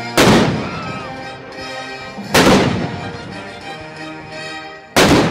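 Three huge booming cannon blasts land about two seconds apart in a Tchaikovsky orchestral piece, each cutting through a dense, sustained orchestral texture that carries on between them.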